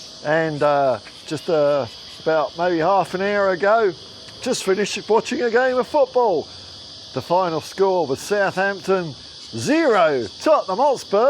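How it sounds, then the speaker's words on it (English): Cicadas buzz in warm, sunny morning weather as a steady, shrill drone in the background, while someone talks close up over them throughout. "You can probably hear some cicadas in the background going nuts, as they do when it's warm weather."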